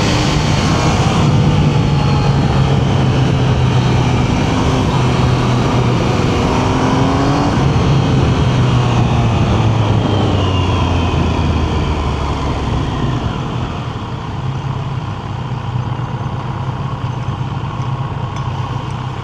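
A 2026 Triumph Trident 800 motorcycle engine on a ride, loud and close, its tone climbing and falling through repeated rev sweeps over steady road and wind noise, with no talk.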